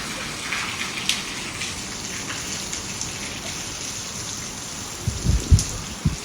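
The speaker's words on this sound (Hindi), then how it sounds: "तो यहाँ हो रही है बहुत तेज़ बारिश" Steady heavy rain in Kashipur hisses across the whole scene, with a few louder low splashes and thumps near the end.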